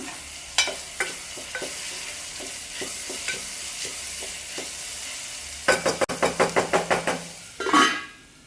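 Curry leaves crackle into a pot of simmering mutton curry with a steady fry, broken by repeated spoon knocks against the pan and a quick run of rhythmic clanks before a final loud scrape.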